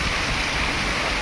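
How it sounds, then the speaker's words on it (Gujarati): Heavy rain pouring down at a factory in Morbi, a dense, loud, continuous wash of noise that fills the brief moment with no voices. "આવો કાંઈક વરસાદ અત્યારે મોરબીમાં ચાલુ છે"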